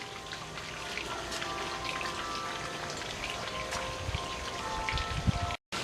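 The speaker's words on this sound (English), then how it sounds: "I know it's hard to believe, but it's raining." Daytime rain coming down outdoors, a dense, even patter of drops on surfaces with scattered brighter ticks, steady and moderately close, with no voices.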